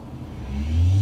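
A car engine revs up in the game City Car Driving, a rising mid-pitched whine swelling louder over one second, with no voices.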